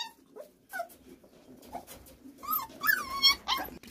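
Several dogs whimper and yip while waiting for a bowl of milk with bits of roti. Scattered high whines and short yips come and go, fairly faint at first and growing livelier toward the end.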